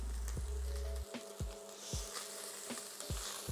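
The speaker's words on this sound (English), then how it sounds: "So now I'm going to add my onions and my pepper in there." Onions and peppers frying in a pan give a quiet, steady sizzle, broken by a few soft knocks and stirring taps at regular intervals.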